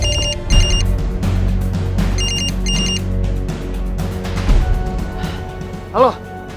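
Telephone bell ringing in bursts of rapid electronic trills, fairly close, over a low background hum, with a brief higher warbling tone near the end.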